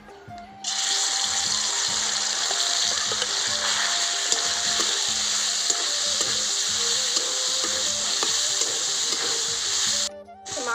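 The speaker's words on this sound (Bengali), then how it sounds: "এবার পিৎজার জন্য মাংস ভেজে নেব।" Chicken pieces frying in white oil in a wok for a homemade chicken pizza, a steady loud sizzle starting abruptly and running nearly throughout, with repeated low scraping and stirring knocks under it, cutting off briefly near the end.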